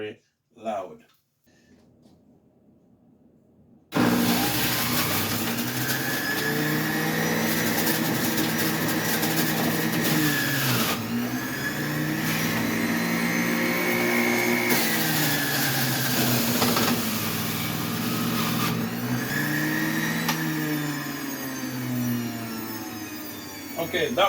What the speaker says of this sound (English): Let me get my juice extractor ready.